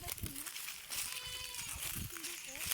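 Goats on a farm bleat several times, with short wavering cries rising over steady background noise and people talking nearby.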